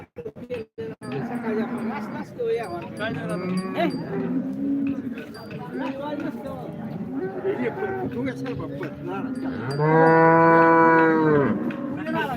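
Cattle at the busy Modnimb cow market low and moo repeatedly, with a long loud moo near the end, amid crowd chatter and people talking close by.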